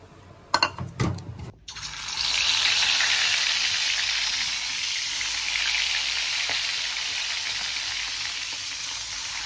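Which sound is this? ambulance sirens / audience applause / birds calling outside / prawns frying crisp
prawns frying crisp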